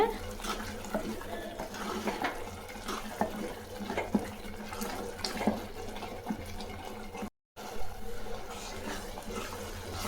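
Steady running water splashes and swirls while rinsing out a blender jar used to grind tomatoes, close up for several seconds, with a brief cutout near the end.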